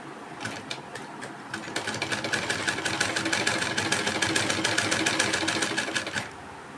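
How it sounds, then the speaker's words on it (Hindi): A sewing machine runs a close edge seam along a folded blouse hem, its rapid needle clatter starting in short bursts and then settling into a steady, close, even run before stopping, with no talking. "बिल्कुल किनारे किनारे सिलाई चल रही है।"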